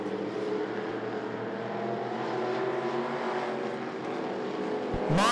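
Race cars circle the I-75 Raceway track in a close race, their engines a continuous loud roar rising and falling, with a sharp burst near the end.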